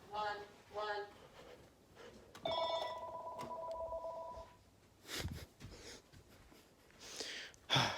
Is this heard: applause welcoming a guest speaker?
no